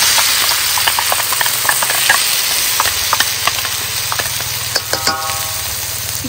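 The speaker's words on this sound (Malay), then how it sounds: "Kita tumis sampai dia naik bau." Ground spice paste sautéing in hot oil in a pan for a Malaysian sea bass dish, a steady close sizzle and hiss with scattered pops and crackles, and no voices.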